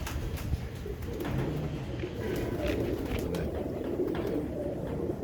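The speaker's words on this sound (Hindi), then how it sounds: "ये लाल आंखों के कबूतर हैं सब।" A flock of red-eyed pigeons coos in low, overlapping murmurs, with scattered soft flutters and shuffles close by and no talking.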